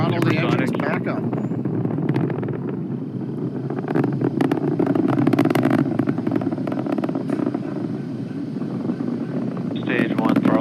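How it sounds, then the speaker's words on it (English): Falcon 9 rocket engines roaring during the Crew-3 launch, a steady, distant low rumble with wind-like noise, while voices talk over it throughout. "Getting ready to throttle the engines back up."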